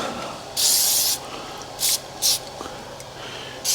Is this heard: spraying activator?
yes